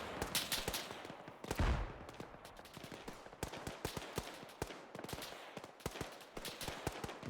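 Rapid close gunfire from rifles and machine guns crackles in bursts throughout a tactical military shooter game, Arma 3, dense and continuous with a heavier blast near the start.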